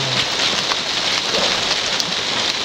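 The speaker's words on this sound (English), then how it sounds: "he can hear the rain" Heavy rain pours steadily onto an outdoor beer garden, a dense continuous hiss of drops close by with no talking.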